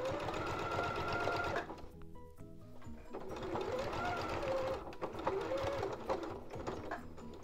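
Sewing machine stitching bias binding around a neckline, running in a fast steady whir, stopping briefly for a second or so, then starting up and running again, close by.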